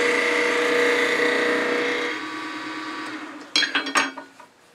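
A wood lathe spinning while a wooden elf is tapered to a point, a steady whirring hum that winds down, followed by several short scraping bursts of tool cutting into the wood.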